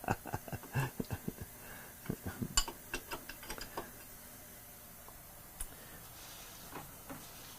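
Machine tool table cranked along its ways, giving a series of irregular clicking ticks and light mechanical knocks, close but quiet, thinning out to a few scattered taps.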